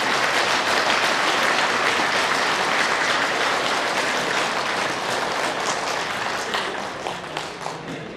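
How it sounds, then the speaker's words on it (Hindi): An audience claps hands steadily as an exercise, producing a dense, loud, continuous applause that fades only slightly toward the end, with no talking. "गुलाबी होने तक बजा रहे ना ताली, हाथों को चेक करते रहिए गुलाबी हो रहे कि नहीं।"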